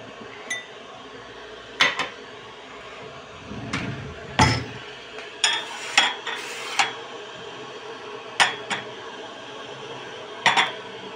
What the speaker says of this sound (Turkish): Bardaklarımı da çıkartayım.